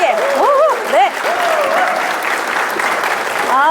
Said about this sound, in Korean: 박수를 치시려면 시원하게.